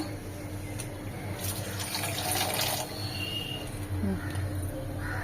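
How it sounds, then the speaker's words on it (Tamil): Water is poured into a pot of peeled, cut beetroot for rasam, making a continuous rushing, splashing stream at close range with a low household hum beneath it. "இப்போ தண்ணி ஊத்தி வேக வச்சுப்போம்"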